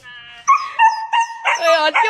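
Dog whimpering and yipping in distress after its owner pretends to have been bitten: a quick series of high, whiny yelps and whines, loud and close.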